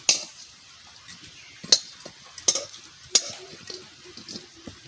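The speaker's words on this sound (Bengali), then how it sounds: "উল্টাই দেব এরকম করে যাতে একটু জলটা টেনে যায়" Spatula scraping and clanking against a pan as mashed taro (maan kochu bata) is turned and stirred to dry out, several sharp knocks spaced over a soft background of light cooking noise, close by.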